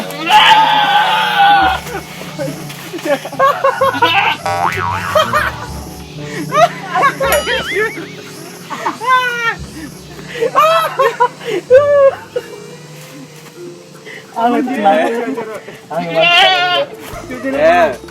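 Goats bleat repeatedly in wavering, nasal cries spread through the scene, mixed with lively talk and bursts of laughter from several people nearby.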